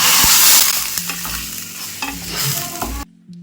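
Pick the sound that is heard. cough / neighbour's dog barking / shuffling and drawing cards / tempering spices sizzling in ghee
tempering spices sizzling in ghee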